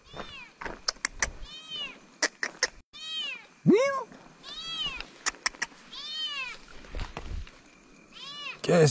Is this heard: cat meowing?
yes